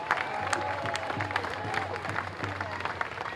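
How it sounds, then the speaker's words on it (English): Crowd applause at a Palm Sunday protest rally for a refugee action speaker, outdoors: scattered clapping and some cheering mixed with crowd noise and a low steady hum, continuous with no clear break. "Big round of applause for Jasmine,"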